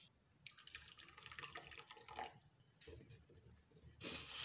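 Garlic is washed in a bowl under tap water, with soft splashing and running-water bursts that come and go and a stronger rush at the end.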